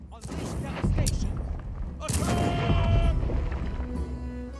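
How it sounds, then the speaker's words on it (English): Mortar fire in the strategy game Humankind: two loud booming blasts, each followed by a rolling rumble and crackle, with a narrator talking over part of it. "So let's use the mortars."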